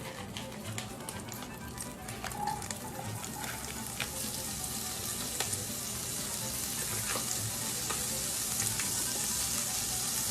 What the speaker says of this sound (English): as this starts to sizzle.